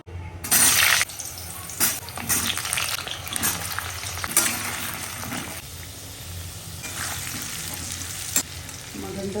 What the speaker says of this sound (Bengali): এখন এখানে ভাজবো আলুটা